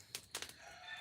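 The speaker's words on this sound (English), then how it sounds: "listening to the chickens cluck" Chickens clucking outdoors in rural Mississippi, a few short bursts of calls close by over a quiet background, with no talk.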